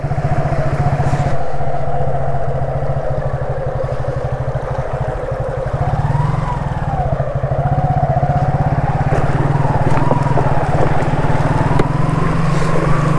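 Motorbike ridden through deep floodwater during heavy cyclone rain, a steady loud engine drone with a low rumble and a continuous wash of water running the full length.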